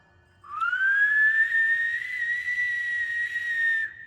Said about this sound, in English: Well, that was a pretty good whistle.